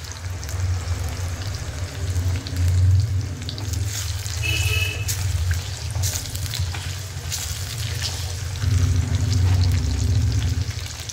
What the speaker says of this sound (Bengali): এটা হতে থাকলো, আর ওইদিকে হচ্ছে ফ্রাইটা